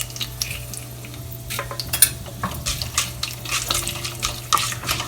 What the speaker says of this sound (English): going to add 1 spoon of methi seeds